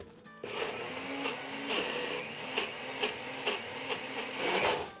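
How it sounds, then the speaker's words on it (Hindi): A kitchen mixer grinder whirs continuously as it blends dosa batter in its jar, a loud, steady motor drone with rhythmic surges as the batter churns, close by and without talk. "अगर आपका ये मिक्सी का जार अगर मेटल का है तो इतना चलाने से वो हीट अप हो जाएगा।"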